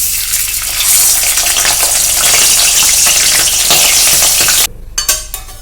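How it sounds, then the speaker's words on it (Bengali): Chicken pieces drop into hot mustard oil and fry with a loud, dense, continuous sizzle that runs steadily before cutting out abruptly near the end, followed by a few brief clatters. "আমি এবার চিকেনগুলো এই তেলের মধ্যে দিয়ে দিচ্ছি।"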